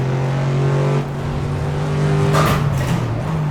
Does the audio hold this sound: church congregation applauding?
no